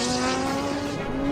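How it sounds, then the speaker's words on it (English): Rhys Millen's race car pulls away on the Pikes Peak hill climb, its engine a loud, sustained, strongly tonal note heard alone with no voices. "Rhys Millen just took off from the starting line here"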